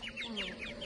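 A cartoon rooster crows in a quick run of bright, repeated squawking calls, close and clear over a low steady background.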